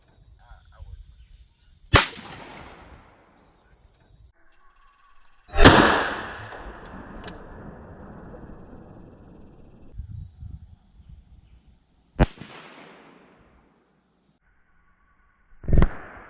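A .22 WMR round fired into a watermelon outdoors: four sharp, loud cracks spaced several seconds apart, each trailing off into a brief echoing decay, with near silence between.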